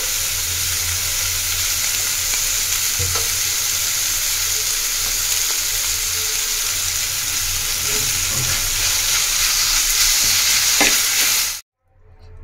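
Boiled potatoes being stirred into a hot pan of spices for aloo paratha filling, with a steady close sizzle and scraping that runs without talk before cutting off abruptly.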